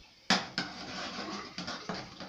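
A spoon knocking and scraping in a pot while stirring custard cream: a few distinct light taps and clinks at an uneven pace over a steady soft scraping, close and fairly quiet.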